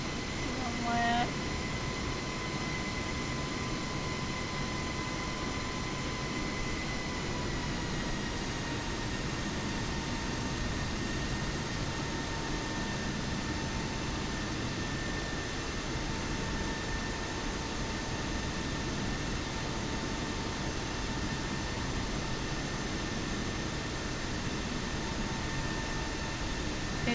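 An Airbus A320neo taxis toward the runway in Microsoft Flight Simulator on Xbox, giving a steady, broadband engine hum with faint sustained tones, constant and unchanging throughout, with a voice talking over it.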